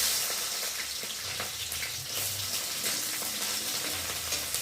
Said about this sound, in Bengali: দেখো পেঁয়াজগুলো আগে ভেজে নেব।